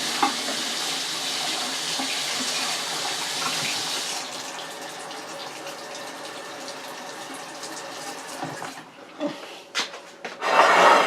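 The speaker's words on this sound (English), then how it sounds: "I'm washing my hands." Hands being washed under a running kitchen tap, a steady broadband rush of water for about four seconds that then softens and breaks into rubbing, splashing and scattered clatters near the end, with no talk.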